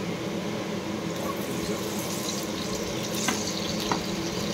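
Pieces of raw papaya fry in hot oil with a steady, close crackling sizzle and occasional stirring clinks, and faint voices can be heard in the background.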